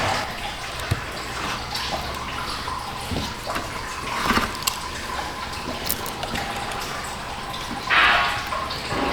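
Fluid draining from the radiator of a Chrysler Town and Country minivan, a steady trickle and splatter of liquid with occasional drips and a brief louder gush near the end, close by.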